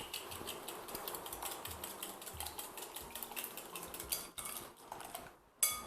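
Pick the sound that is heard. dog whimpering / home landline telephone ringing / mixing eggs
mixing eggs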